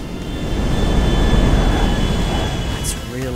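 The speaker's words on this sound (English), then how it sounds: "I think a plane just landed too." A jet airplane lands in the GTA 5 video game, a loud, steady roaring engine rumble that swells and then fades, with a faint high whine across it and a short voice near the end.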